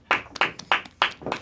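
A few people in a radio studio clap in a quick, evenly spaced run of about five crisp claps. The claps are close and distinct, with short gaps between them.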